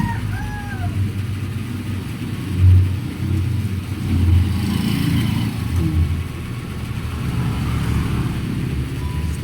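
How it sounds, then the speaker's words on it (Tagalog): A tricycle engine revving nearby, a rough low rumble with a couple of louder bursts early on, then a steady droning roar over continuous road noise. "turbo itong mga tricycle"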